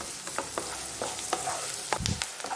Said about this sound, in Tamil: பொன்னிறமாக மாறுற அளவுக்கு நல்லா வதக்கிக்கணும்.